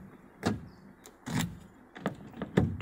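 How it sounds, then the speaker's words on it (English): Door lock actuators on a 2006 Cadillac CTS-V clunk repeatedly, several short mechanical thunks spaced across a couple of seconds, close and fairly quiet, with no voices. "door locks,"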